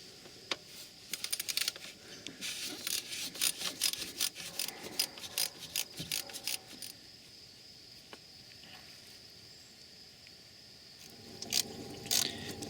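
Ratchet slackening bolts on the thermostat housing of a Dodge Grand Caravan, quiet quick clicking runs in close, repeated bursts with pauses, then a final short burst.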